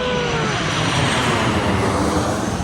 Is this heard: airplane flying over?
yes